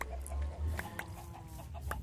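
Chickens cluck softly in modded Minecraft, a few short clucks close by with no talking.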